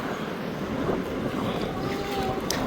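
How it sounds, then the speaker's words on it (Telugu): Steady wind rushes and buffets against the microphone, with a low rumble and faint water movement underneath throughout. "గాలి సౌండ్ మీకు వినపడుతుందో లేదో"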